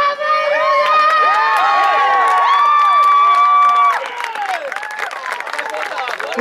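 Crowd cheering and clapping at a rugby match between Ruda Śląska and Czarni Pruszcz Gdański, loud and sustained, with excited shouting voices throughout and the applause thinning slightly toward the end.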